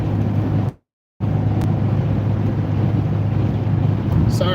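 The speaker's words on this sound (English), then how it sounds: "There's a little more road noise" Steady broadband road and tire rumble inside a moving car in traffic, loud and continuous, broken by a brief dropout of near silence early on.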